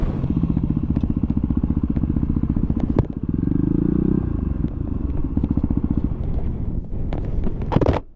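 Yamaha WR250R motorcycle riding across the Simpson Desert in Australia, its single-cylinder engine thrumming loud and close in a steady pulsing beat, with a brief rev change, wind buffeting and clattering bumps.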